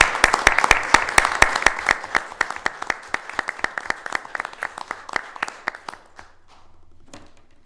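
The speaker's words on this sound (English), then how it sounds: "if we could probably have a round of applause" A small group claps through a round of applause at a town selectboard meeting, with steady, fairly near hand claps that thin out and fade over several seconds before the room falls quiet.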